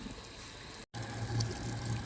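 Water runs steadily into a household front-loading washing machine after the start button is pressed, a continuous trickling pour that breaks off for an instant of silence and then resumes slightly fuller, with no talk over it.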